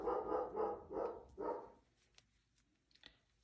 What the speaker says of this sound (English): Forgive my dog. He's a bit lippy, especially when he sees maybe a bird on the lawn.